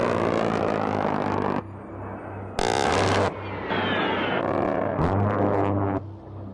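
Loud, roaring A-10 Warthog attack aircraft noise with abrupt shifts in pitch and intensity, harsh and close, with a brief buzzing burst in the middle.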